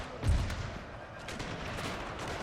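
Cannons fire in the Pike and Shot video game during an Ottoman versus Poland battle: one low boom near the start, then a faint, rumbling battlefield din with scattered cracks.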